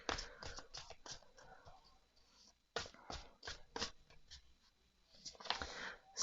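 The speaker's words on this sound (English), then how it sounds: "So let's go ahead and give this a shuffle." Oracle-size tarot cards riffle and slap together in quick bursts, a pause, then more shuffling, close and crisp with no talking.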